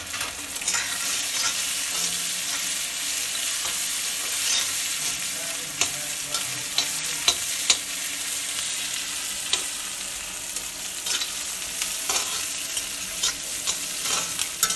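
Bay leaf and whole cumin fry with onions in a pan, giving a steady close sizzle broken by occasional scraping stirs, with no talk over it.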